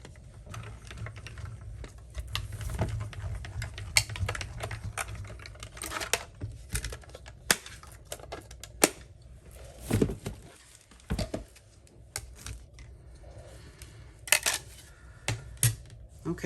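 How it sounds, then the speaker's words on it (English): A Stampin' Up! mini Cut and Emboss die-cutting machine is worked close by, giving a run of irregular clicks, ticks and clacks over a steady low rumble for about sixteen seconds, with no talking. "So let me get my Stampin' Cut Emboss machine. This is the mini. We're just going to run this through really quick."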